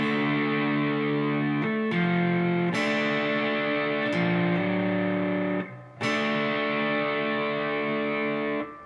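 Electric guitar plays the slow part two of a song, with sustained distorted notes and chords changing every second or so, carrying steadily and loud, with no voices.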